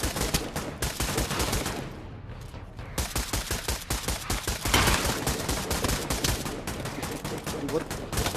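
Rapid bursts of gunfire in Pavlov VR zombies mode, dense repeated shots close and loud with a brief pause, continuing steadily under the clip with no speech.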